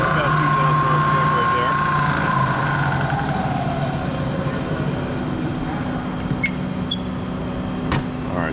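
Prodex 2JSS jacketed high intensity mixer running at about 2,000 RPM, a loud steady motor whine that eases lower partway through, with a few brief clinks near the end.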